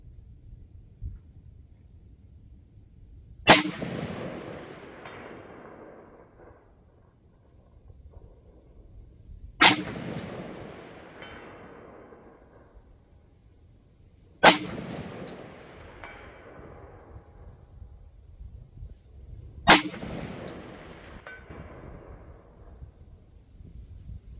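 Four rifle shots fired one by one across a valley with a deep dip, each a sharp crack followed by a long rolling echo that fades over several seconds, spaced roughly five seconds apart in open outdoor quiet.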